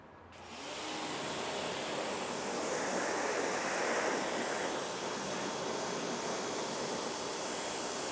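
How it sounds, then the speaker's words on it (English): Water spraying steadily onto a car wheel during a rinse, a broad continuous hiss and splash that starts abruptly and holds at an even level throughout, close by with no talk. "And now we're going to go ahead and rinse it off."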